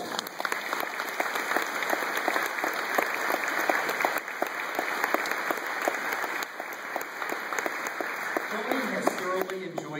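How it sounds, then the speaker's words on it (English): Steady applause from a banquet crowd, clapping continuously and fairly loud throughout, with no break. "give a nice round of applause for you"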